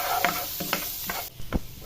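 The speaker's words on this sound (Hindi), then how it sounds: "अब इसको थोड़ा सा फ्राई करेंगे।" Ginger and garlic fry in melted butter under a soft sizzle, broken by a few distinct stirring scrapes and taps at a close, moderate level.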